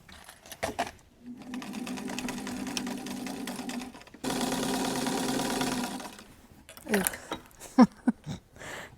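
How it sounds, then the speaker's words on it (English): Sewing machine stitching the side seams of pleated skirt panels in slippery fabric, running in two long steady bursts with a brief pause between, then stopping for a few short clicks and handling noises. "I'm just going to sew the side seams of these pleated panels now"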